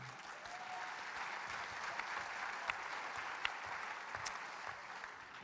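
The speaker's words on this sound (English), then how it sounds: "it's okay to clap, go ahead and clap" Audience clapping at a Porter Ranch town hall meeting, a soft, steady, distant patter of many hands with a few sharper individual claps standing out.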